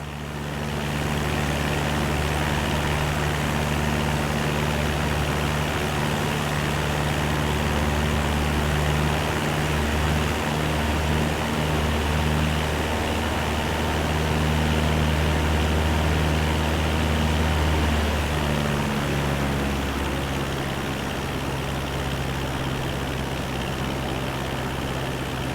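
Steady, loud aircraft engine drone fills the cabin throughout on final approach to Kagoshima airport, a constant broadband roar with low tonal hum and no speech.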